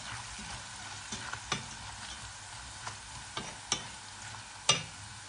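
Sweet potato slices deep-fry in oil for crispy chips, a soft even bubbling hiss punctuated by several light taps and clicks, with no one speaking.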